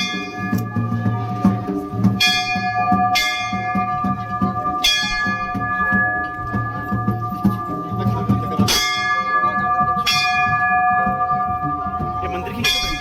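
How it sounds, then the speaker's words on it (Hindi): Temple bells ring at Surkanda Devi temple in Uttarakhand: repeated bright metallic strikes roughly every second or two with long ringing tails, loud and close, over a murmur of people talking. "ये मंदिर की घंटी होती है, इससे मेरे को बहुत पॉजिटिविटी आती है।"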